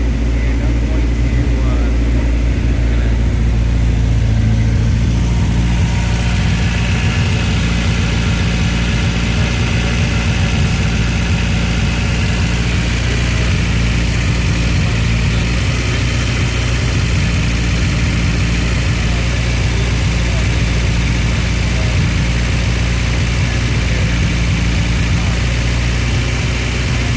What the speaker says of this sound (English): I've got the engine started